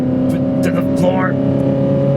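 A worn Toyota Highlander engine pulls under full throttle from inside the cabin, a steady droning hum that climbs slightly, with a voice speaking briefly over it.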